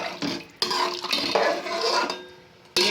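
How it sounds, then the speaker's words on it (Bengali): Mutton polao stirred in a pot after hot water is added, with loud clanking of a metal spoon against the pot and scraping in bursts, a brief pause, then a sharp clatter at the end, with no talk. "এবার গরম জলটা দিয়ে এটাকে ভালো করে মিশিয়ে নেব।"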